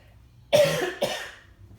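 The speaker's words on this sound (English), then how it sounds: "I've been coughing all morning." A woman coughs twice in quick succession, a harsh, close burst followed by a second shorter one, with no talking during the clip.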